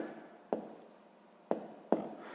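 A pen writes out a step of a sixth-grade math exercise by hand, three short, crisp strokes against paper, close by in a quiet room.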